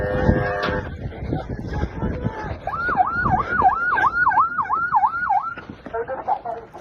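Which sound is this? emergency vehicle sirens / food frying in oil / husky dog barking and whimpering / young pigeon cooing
emergency vehicle sirens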